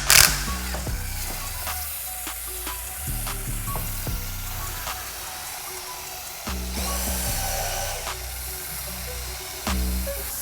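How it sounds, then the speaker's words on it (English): A drill brush scrubbing during detailing work: a loud whirring spin with repeated stop-start bursts and a harsh wet scrubbing hiss throughout, with no talking. "most detailers and prosumers like to use, the handy dandy drill brush."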